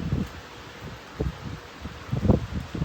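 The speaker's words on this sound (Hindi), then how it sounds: "ओ भाई क्या हवा चल रही है" Strong monsoon wind gusts across an open Airbnb balcony in Dehradun during drizzle, a steady low roar with buffeting surges, the loudest near the end, and no voices.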